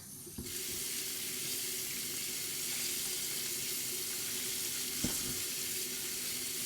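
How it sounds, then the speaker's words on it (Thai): Crushed wild vegetables are squeezed by hand to press out their green juice, a continuous close, wet gushing and dripping sound with a couple of brief knocks. "บีบน้ำออกหมดเลย"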